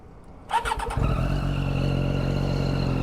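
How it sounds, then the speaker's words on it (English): A Triumph Daytona 675 inline-triple motorcycle with an aftermarket exhaust cranks over briefly, fires up loudly and settles into a strong, steady, close-up engine note. "What a symphony. It has the Aero exhaust and that sweet inline triple."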